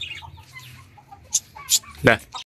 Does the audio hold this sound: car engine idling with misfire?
no